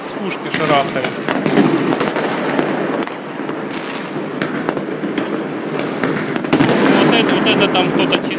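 Distant New Year's fireworks go off in rapid succession, low cannon-like booms and crackling bursts layered densely for several seconds beneath nearby voices.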